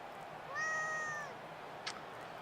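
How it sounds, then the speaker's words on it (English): A small pet cat gives a single clear, drawn-out meow close by in a quiet room, followed by a faint brief tick. "That's my little cat, Cortana."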